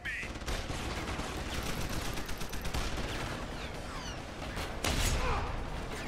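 Shotgun blasts and gunfire in the video game Deus Ex: Human Revolution ring out amid dense, noisy combat, with a loud shot near the five-second mark and a player talking in between.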